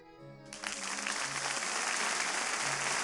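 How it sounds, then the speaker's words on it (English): Black-suited guards in the visual novel Kinkoi: Golden Loveriche burst into sustained applause that starts suddenly and continues loudly over soft background music, with no voices. "Every single black-suited guard applauded."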